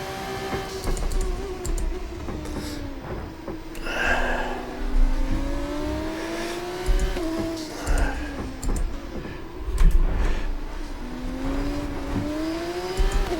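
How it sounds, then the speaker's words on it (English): An F2 car's engine in the racing game F1 24 on the Singapore street circuit, holding a loud, steady whine that rises and falls through gear changes, continuous and close throughout. "The straight line speed of these F2 cars is unreal."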